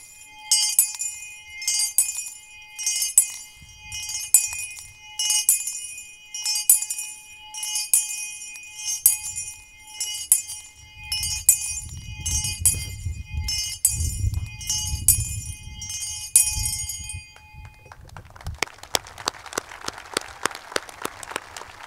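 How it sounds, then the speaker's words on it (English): Wabash College's ceremonial bell, once used by its first professor, rung at a ringing-in ceremony: about a dozen clear, evenly spaced metallic strikes with lingering tones, followed by a burst of applause from a crowd. "using his bell, ring you into the good company of Wabash men"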